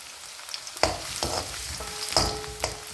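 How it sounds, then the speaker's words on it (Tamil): Ginger and garlic fry in oil with a steady low sizzle, broken by a few clear spoon taps and scrapes against the pan, nearby and without speech. "இஞ்சி பூண்டு ரெண்டும் நல்லா பொரிஞ்சதுக்கப்புறம்"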